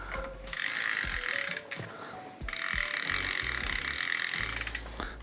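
Adjustable spanner tightening the lock ring on a new mountain bike cassette, two long bursts of close, loud ratcheting clicks separated by a short pause, with light metallic knocks between.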